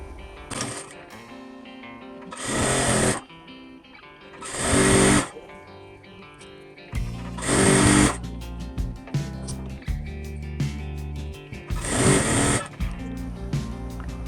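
A sewing machine stitches a pocket seam on a salwar in several loud, close bursts of rapid whirring, separated by quieter pauses with light handling noise.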